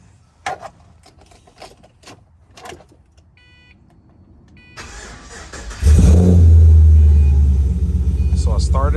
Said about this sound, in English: So I started the vehicle.